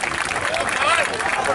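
An audience at a town festival stage show claps in a brief, continuous burst of crowd applause, with a voice carrying over the top.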